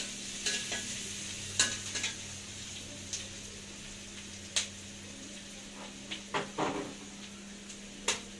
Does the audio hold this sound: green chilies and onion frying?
yes